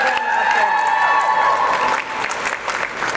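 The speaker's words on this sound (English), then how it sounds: "round of applause" Loud applause and some cheering break out at a Save Women's Sports press conference, a dense, sustained burst of clapping with speech carrying over it before it eases slightly.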